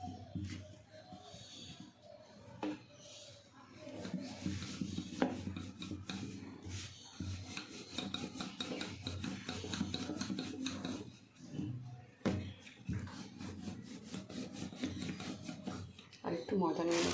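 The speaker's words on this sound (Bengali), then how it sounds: "এবার আমি বেলে নেব" Paratha dough rolled out with a rolling pin, giving steady rubbing and scraping strokes with soft knocks, close by, under a voice talking throughout.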